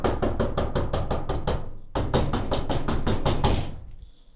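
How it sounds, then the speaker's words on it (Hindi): Loud, rapid knocking bangs on a metal shutter door, a quick run of about eight hits, a brief pause, then another similar burst that fades out, with no voices. "खटखटाने की आवाज़ हो जाती है।"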